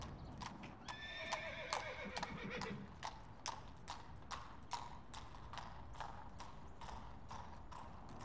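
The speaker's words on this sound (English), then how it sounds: "Horse." Rhythmic hoofbeats clip-clop steadily on a hard surface, with a loud horse whinny early on over faint background noise.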